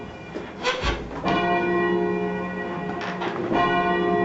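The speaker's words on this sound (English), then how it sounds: "I'll ring the bell that's on the screen" A church bell, roughly three-quarters of a metric ton and swung over on its wheel at a St. Anne's fête, strikes twice, each loud clang leaving a long, rich ringing hum.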